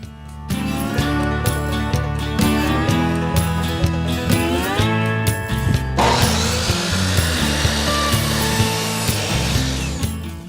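A power saw cuts through wooden side rails for a loft shelf with a steady buzzing whine, shifting to a rougher, louder grinding cut halfway through; no talking.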